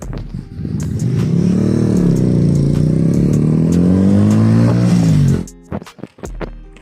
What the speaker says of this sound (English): I hear a supermoto guy.